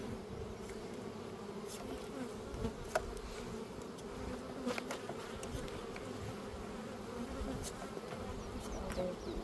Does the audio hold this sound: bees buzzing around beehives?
yes